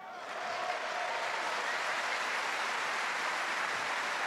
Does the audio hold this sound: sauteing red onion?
no